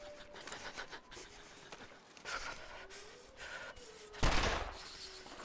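A rifle shot fired while hunting in the snowy survival game The Long Dark, a single loud crack near the end following quieter footsteps and ambient game sounds.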